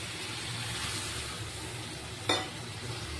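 Spiced khoira fish with raw banana sizzles steadily as it is sautéed in a pan, with a constant frying hiss and one sharp clack of a utensil against the pan.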